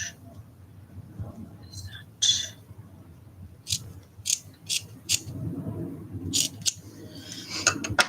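Scissors trim art doll material in a quiet room, giving a series of crisp, close snips spaced irregularly over a soft low background hum.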